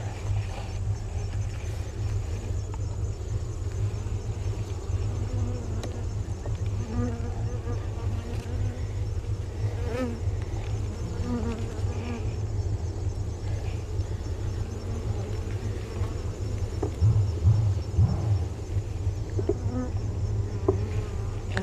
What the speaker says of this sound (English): Get some of these bees out of the way.